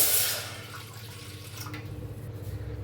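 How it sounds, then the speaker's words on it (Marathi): Water is poured from a bowl into roasted semolina in a pan, a short close hiss and splash at first that settles into a quieter bubbling gurgle, with no one talking. "दीड वाटी बघा पाणी ओतलंय"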